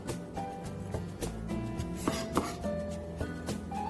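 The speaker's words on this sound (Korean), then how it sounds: "양파를 다져주시고요" A knife chops onion on a cutting board during a cooking class making mapo tofu rice bowls, with quick, close, rhythmic knocks in an uneven series and no talk.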